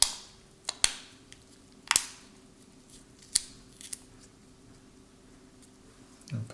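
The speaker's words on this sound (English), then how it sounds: "Snap it back into place." Plastic parts of a Motorola Droid Turbo phone being pressed back into place during reassembly produce several sharp, isolated snaps and clicks, close up and spaced a second or so apart, with no one talking.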